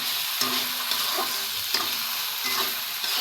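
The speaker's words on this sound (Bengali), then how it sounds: "এই যে এটা দিয়ে আমি ভালোভাবে নেড়ে চেড়ে মিশিয়ে নিচ্ছি" Egg korma masala with almond paste being stirred in a pan, a soft continuous sizzle punctuated by periodic scraping strokes of the spoon roughly every second, close and moderately quiet.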